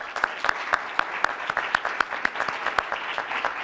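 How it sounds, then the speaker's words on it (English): A small audience at a recycling program event gives a round of applause: scattered, fairly sparse individual claps that carry on steadily at moderate volume. "I just want to give them all a round of applause for their help on this one."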